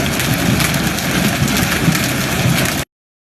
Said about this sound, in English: Severe storm with huge hail.